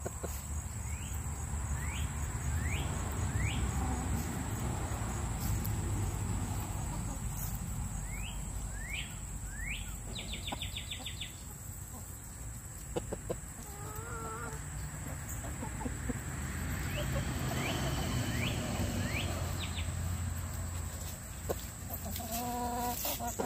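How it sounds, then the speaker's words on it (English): A flock of chickens and one turkey peck at watermelon outdoors, with repeated soft clucks and chirping calls scattered throughout. Insects chirp steadily in the background. "Bunch of chickens and one turkey eating some watermelon."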